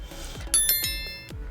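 Notification bell chime effect: a few bright, ringing dings in quick succession over a soft background, short and moderately loud.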